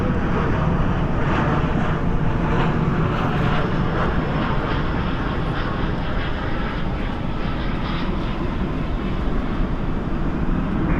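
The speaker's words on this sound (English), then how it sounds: "Spoilers up, reversers out." Airliner landing at night at Dallas/Fort Worth airport with reverse thrust deployed, a loud, steady, broadband engine roar that continues without break, alone with no talk.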